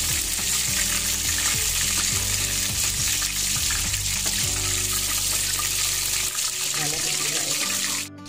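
Fish for sweet and sour fish frying in hot oil, a loud, steady hiss and crackle close by that carries on without a break and cuts off abruptly at the end.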